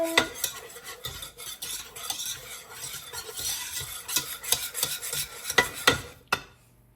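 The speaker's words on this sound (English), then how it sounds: "Give it a good whisk." A whisk beats milk into a macaroni and cheese sauce in a pot, a quick busy rhythm of scraping clicks against the metal, close and fairly quiet, with no talking.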